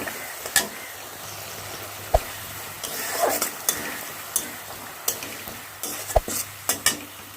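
Peas sizzle in a frying pan while a utensil stirs them, scraping and clinking against the metal in scattered strikes over a steady low fry, with no voices.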